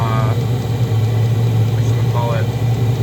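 A Vevor diesel heater runs steadily with a constant low hum and drone, fairly loud and close throughout, while a few faint higher tones drift in the background.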